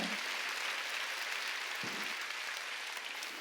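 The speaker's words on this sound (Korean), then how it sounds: "깨달은 사람만 박수치라고." A church congregation at a Wednesday service applauds, a faint, continuous wash of clapping filling the room evenly with one slightly louder knock partway through.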